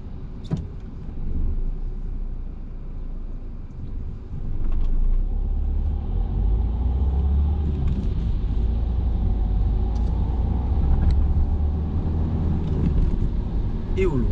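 A car moving through city-centre traffic in the morning, a steady low engine and road rumble running throughout as the driver eases off the accelerator.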